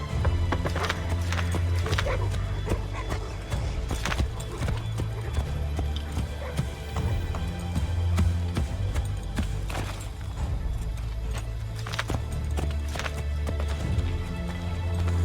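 Horses gallop with steady, loud clip-clop hoofbeats and occasional whinnies in Assassin's Creed III Remastered, an American Revolutionary War video game, with faint game voices mixed underneath throughout.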